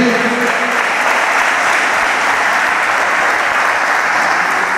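Congregation applauding in church, dense steady clapping from many hands filling the room at close range, continuous and loud throughout.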